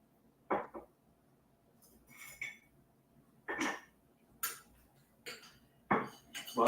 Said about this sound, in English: But I'm making myself coffee